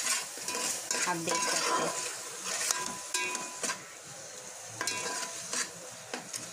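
Chopped onions are being stirred and fried in a pan, giving a steady close sizzle with the scrape and clink of a spoon stirring. A few brief words are spoken over it.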